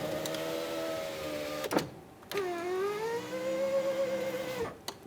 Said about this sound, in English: put the key in the on position and test the window motor and regulator functionality